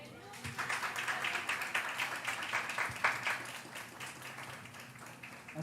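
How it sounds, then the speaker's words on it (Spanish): An audience at a Pint of Science festival talk in Salta claps in a dense, steady patter for several seconds, with voices mixed in underneath. "Un fuerte aplauso."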